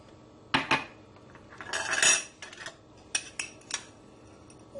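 Ice cubes drop into mango milkshake in a container with a few distinct clinks and clatters, one longer rattling tumble, then a couple of lighter knocks, with no talking.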